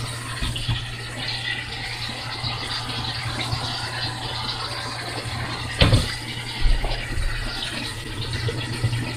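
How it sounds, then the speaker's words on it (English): Ground beef being washed with water and lemon juice, a steady rush of running water splashing into a bowl with a couple of louder sloshes partway through, close and continuous. "I'm washing my ground beef with some lemon juice"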